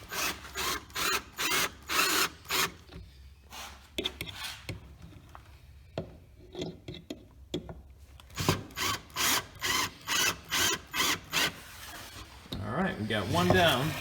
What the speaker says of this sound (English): now we're going to secure the first riser with some screws.